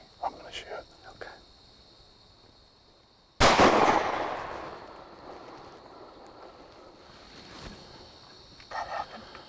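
A single loud rifle shot cracks out while deer hunting outdoors, its boom decaying over a few seconds against wind noise, with quiet voices before and after.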